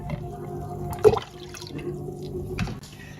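Water splashes and trickles briefly into a pan, a short pour with a small splash near the start, close and fairly quiet.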